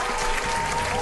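Steady applause from a crowd at a gathering, a dense continuous patter of clapping held at an even, fairly loud level for a brief moment.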